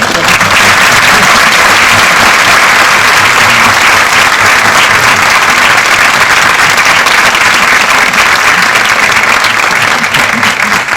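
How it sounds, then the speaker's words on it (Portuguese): A conference audience at a national entrepreneurship event gives a loud, continuous round of applause, a thick wall of clapping that holds steady for the full stretch with scattered voices underneath. "Por favor, dê uma salva de palmas para ela."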